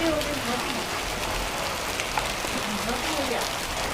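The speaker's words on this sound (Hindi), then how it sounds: "तो लगातार आप देख सकते हो ओले गिरते हुए।" Hailstones falling steadily during a sudden afternoon storm in an Uttarakhand village, a dense continuous patter with scattered sharper hits. A voice speaks quietly under the noise.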